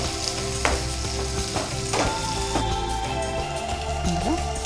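Curry leaves frying in oil with thinly sliced onions for Andhra-style pappu charu, a loud steady sizzle with a few sharp spatula scrapes and clinks, close and without speech.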